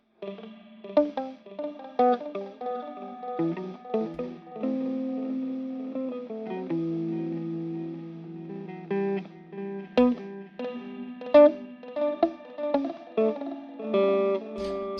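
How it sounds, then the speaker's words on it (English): An electric guitar played through a TE TapeEcho MkII pedal with its spring-style reverb turned up: plucked notes and sustained chords ring with washy, lingering tails, loud and alone with no talking. "it sounds like it's supposed to be a spring reverb"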